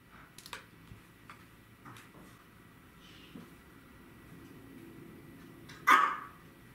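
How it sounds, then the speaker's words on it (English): A single sharp dog bark rings out near the end after quiet ticking and faint background clicks. "That's my dog barking."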